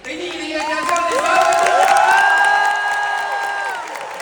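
Loud audience cheering, whooping and applause at the curtain call of a Cantonese stage play, with high excited shouts rising and sliding over sustained clapping across the whole stretch.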